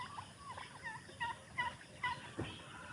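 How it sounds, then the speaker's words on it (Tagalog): Several turkeys gobble in quick, warbling bursts, somewhat distant and soft, over a faint outdoor background. "Yan yung mga pabo."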